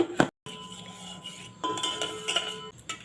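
A spoon stirs chhena payesh in a metal pot, giving a few clinks and scrapes against the sides, with a short pause before the stirring resumes.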